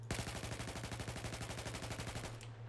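Assault rifle from Battlefield 4 firing a long sustained automatic burst, rapid evenly spaced shots, loud and close, no talking.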